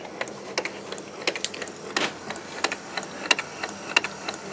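A Keurig 2.0 coffee maker brewing an 8 ounce test cup, with irregular clicks, ticks and short pulsing mechanical pumping bursts over a faint hum, fairly quiet and close, no talk.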